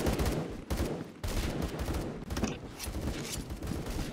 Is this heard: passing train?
no